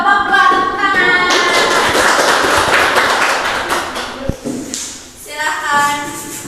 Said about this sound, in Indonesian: 10 buat kelompok dua, tepuk tangan.